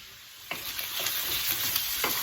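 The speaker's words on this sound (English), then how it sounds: "While you're hearing that sausage sizzle" Sausage sizzles steadily in a hot pan, a constant crackling hiss with a few soft scrapes of stirring.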